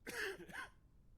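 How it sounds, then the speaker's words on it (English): A patient's short throat-clearing cough in the Quarantine Zone: The Last Check video game, a single harsh burst close and alone, trailing off quickly. "But we got coughing."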